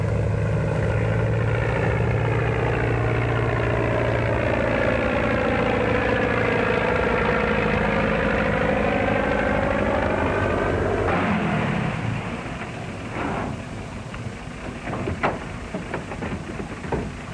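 Propeller airplane engine warming up on the ground in a 1935 crime drama, a loud steady drone with a rising and falling hum that shifts into rougher, uneven sputtering toward the end. No voices are heard.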